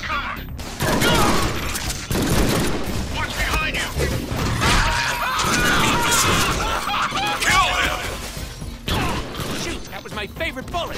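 Heavy gunfire in a Deadpool action scene: loud, dense bursts of shots and mechanical clatter with booms and crashes, continuous and close, mixed with talking voices.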